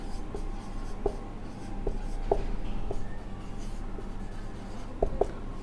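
Pen or marker writing out a chemistry solution on paper or a board, heard as faint scattered scratching strokes over a steady low background hum, with no talking.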